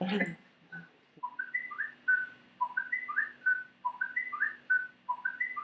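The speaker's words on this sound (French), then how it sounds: "ton oiseau là" A small bird repeats bright, whistled chirping phrases in a steady rhythm, close and clear, after a brief bit of speech at the start.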